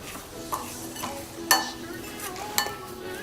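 Homemade korma masala spices and torn leaves being mixed by hand or spoon in a bowl, giving soft scraping and rustling, with a few sharp clinks of a utensil against the vessel.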